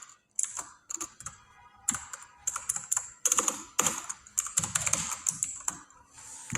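Computer keyboard keys clatter in quick, irregular bursts of close, crisp clicks with short pauses between runs.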